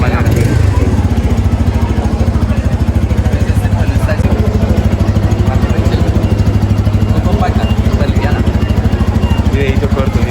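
A Bajaj Pulsar N250 motorcycle engine runs close by in a steady, loud, even rhythmic throb that holds throughout with little change.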